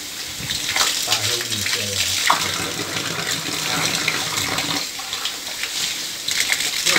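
Water flushing steadily through a bored-well water filter drum filled with stones during cleaning, a continuous loud gushing rush with faint voices in the background.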